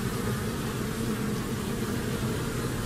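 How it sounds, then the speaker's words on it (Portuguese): Honeybee drones buzz in a dense, steady drone up close as a swarm is moved into a hive box, a continuous hum with no pauses. "Epá, muito zangão aqui."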